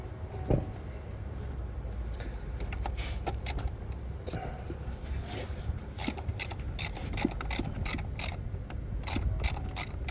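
A ratchet wrench clicks in quick repeated bursts, close by, as it tightens a power steering pump bolt on a 2006 Chevrolet Impala, with a low steady hum underneath and no talking.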